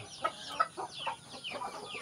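Chickens on a small backyard farm cluck in a quick, repeated series of short calls, close by and fairly quiet.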